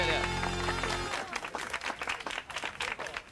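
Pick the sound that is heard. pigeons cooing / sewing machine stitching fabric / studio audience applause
studio audience applause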